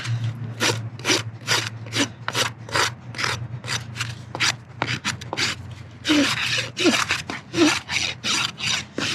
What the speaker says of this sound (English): So I always take my rasp and just kind of come around like so.